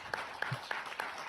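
An audience at a film screening Q&A claps in a brief round of applause, a few distinct claps standing out above a soft crowd wash, fairly faint.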